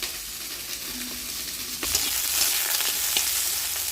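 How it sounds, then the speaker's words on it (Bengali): Capsicum and onion frying in a pan make a steady, close hiss of oil with a brief louder burst near the middle as the sizzle swells, continuing alone without talk. "এবার আমি ক্যাপসিকাম আর পেঁয়াজটা দিয়ে দিলাম।"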